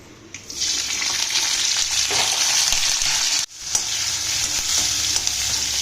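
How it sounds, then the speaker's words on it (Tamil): Curry leaves, green chilies and tomato frying in a pan for cabbage, giving a loud steady sizzle that runs throughout, with one brief sharp break midway before the crackle resumes. "நல்லா பொரியட்டும்"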